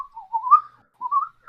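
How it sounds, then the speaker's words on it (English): A person whistles a casual, unhurried tune alone in two short rising phrases separated by a brief pause, clear and close. "you want an average whistle if you're trying to be nonchalant"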